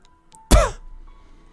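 A single short, harsh cough bursts out abruptly, then fades into quiet background.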